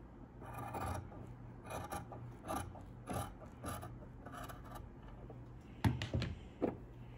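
Scissors trimming a fabric seam allowance on a sewing project, a series of soft, close snips and rasping cuts repeating in a loose rhythm, faint and without talk.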